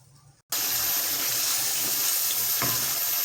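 Meat frying with tomatoes, onion and garlic over high heat, a loud, steady sizzle that bursts in abruptly after a short quiet start and holds close and constant, with a brief stir.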